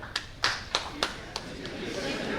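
Scattered hand claps ring out at an indoor talk, about half a dozen distinct slaps spaced irregularly, and the last one fades into low room murmur.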